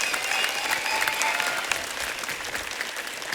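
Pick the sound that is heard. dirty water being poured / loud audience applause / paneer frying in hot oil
loud audience applause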